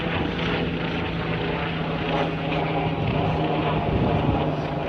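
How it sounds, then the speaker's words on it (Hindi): Helicopters fly over the Coney Island area of New York with a loud, steady rotor and engine roar that holds continuously throughout, with no voices. "देखिए और मजीद हेलीकॉप्टर भी आ रहे हैं"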